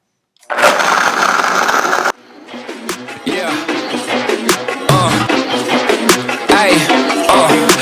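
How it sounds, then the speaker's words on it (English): A blender making a protein smoothie whirs loudly, pauses, then keeps grinding with rhythmic chopping and churning as the contents get blended, with no one talking. "So all we're going to do is blend it. So this blender has a smoothie setting."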